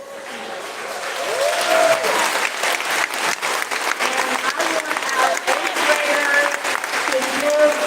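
Families and friends applauding eighth graders at a school ceremony, a sustained round of crowd clapping with cheers and talking mixed in throughout.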